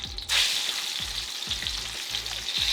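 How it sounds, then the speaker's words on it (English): Peppers, garlic and onion sizzle steadily in a hot pan on high heat, with a stirring scrape repeating every half second or so over the constant frying hiss. "It's gonna start frying up here pretty good."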